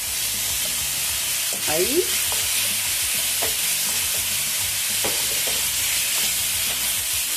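Lomo saltado stir-frying in a hot pan as tomato goes in, a steady loud sizzle with stirring scrapes and a few sharper clatters of the utensil, a brief word spoken over it.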